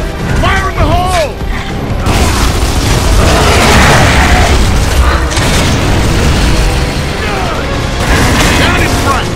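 A grenade detonates in the video game Gears of War: Judgment, a loud booming blast among gunfire and battle noise, with voices calling out.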